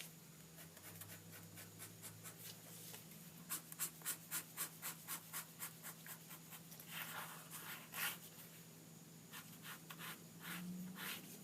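A pencil or pen scratches across paper while bushes are drawn with squiggly and straight strokes, first soft and slow, then a run of quick, rhythmic back-and-forth scribbles, with a low steady hum beneath.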